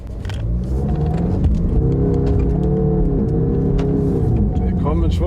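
A 2021 Land Rover Defender 110 engine rumbles loud and close at full throttle off-road, its pitch climbing steadily and then leveling out, while people talk over it.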